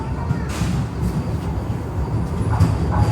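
A Vande Bharat express train running in India, heard from inside as a steady low rumble with faint rhythmic clatter and a few brief higher swells, fairly loud and continuous with no speech.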